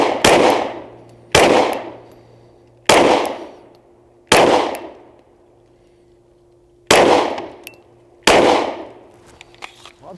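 Shots from an FN 509 Tactical handgun on a shooting range, heard as six sharp, loud reports, some closely paired and others spaced a second or more apart, each decaying quickly with a short outdoor echo and no talking.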